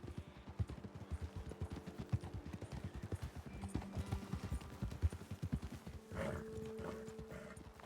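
Steady clip-clopping hooves of horses trotting over hard ground in Red Dead Redemption II, close and continuous, with a brief snort or whinny near the end and no talking.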